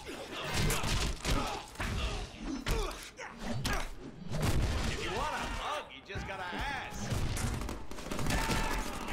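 Gunfire bursts and crashing impacts from the Deadpool video game, loud and uneven, mixed with clanks and a game voice talking over the action.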